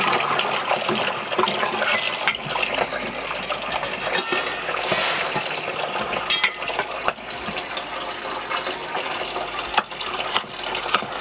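Raw frog meat rinsed under a running kitchen tap, a steady splashing gush of water with occasional clatter and shifting as the meat is handled, close and continuous with no talk.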